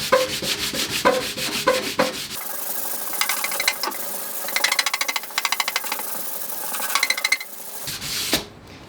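A motorcycle fuel tank is hand-sanded with a rubber sanding block, giving loud, close, rhythmic scraping strokes in quick back-and-forth bursts that continue throughout.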